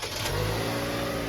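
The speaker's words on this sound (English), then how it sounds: "and the car is gonna start" The engine of a base 2025 Lexus NX250 in white pearl, started remotely, turns over and settles into a close, steady hum that runs without pause for the whole moment.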